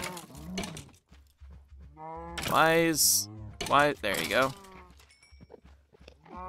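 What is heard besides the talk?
cow mooing in the video game Minecraft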